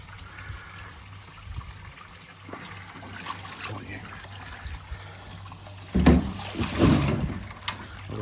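A shower of water trickles and splashes into a 3000-gallon koi pond, a soft continuous trickle with louder splashing near the end, while people talk over it.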